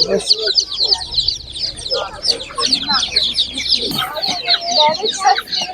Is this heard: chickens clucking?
yes